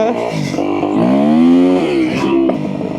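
A newly bought, non-road-legal motorcycle revving in first gear, its engine pitch climbing smoothly then falling back, loud and close throughout.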